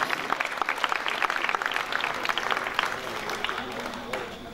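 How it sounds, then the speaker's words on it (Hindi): Steady applause from a church audience for the pastor team at a Passion of Christ gathering, dense clapping sustained throughout at moderate distance. "इनके लिए भरपूर तालियां, बहुत सारी तालियां"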